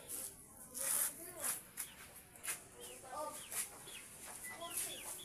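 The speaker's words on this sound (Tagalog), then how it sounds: "May mga alaga rin pala kami sisiw dito." Chicks and chickens kept on a small farm cluck and peep in short scattered calls at a moderate distance, with faint voices and outdoor ambience underneath.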